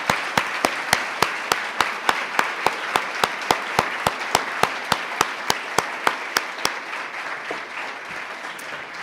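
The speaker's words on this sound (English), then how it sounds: "Can we all give them a big round of applause?" Applause rises from an audience at a university ribbon-cutting ceremony for Cleveland State's School of Film & Media Arts, with sharp, evenly spaced claps standing out above a softer wash of clapping that fades toward the end.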